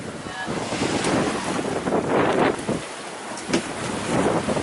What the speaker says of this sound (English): There's a bit of wind.